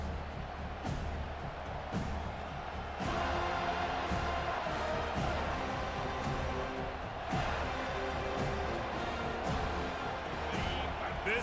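Stadium crowd at an Oregon versus FSU football game, a dense continuous roar that swells and surges in waves, with a voice talking over the noise.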